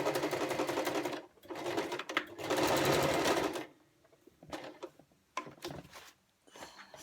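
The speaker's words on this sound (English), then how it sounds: "So I'm sewing on the wrong side of the material, both sides." A sewing machine stitches a fabric face mask in bursts: two long rapid whirring runs, then shorter stop-start stitches and clicks, close and clear.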